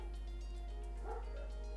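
Dogs barking and yipping in the background, faint and distant behind a steady low hum, with a couple of louder yelps near the end.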